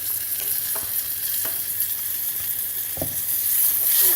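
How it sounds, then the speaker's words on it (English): A butter and flour roux stirred in a hot frying pan, a steady close sizzle with occasional scraping strokes of the utensil against the pan, no talking. "Now I'll just stir that all around, keep it moving, because the butter and the flour need to incorporate and form a roux."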